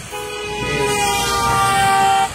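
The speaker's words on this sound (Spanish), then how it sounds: "tocan bocina." A loud horn from a passing vehicle on Ruta 2 in Formosa, Argentina, one long sustained tonal blast that swells and then cuts off, heard nearby in the open with no talk over it.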